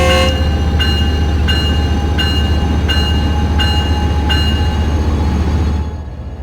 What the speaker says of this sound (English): For a diesel train, this thing accelerates quite fast out of the gate.